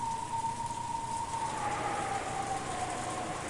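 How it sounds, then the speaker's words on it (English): Steady broadband rain hiss, moderately loud and continuous, with a faint sustained tone running underneath; no voices, set within the Umineko When They Cry visual novel. "Even as the rain beat upon him"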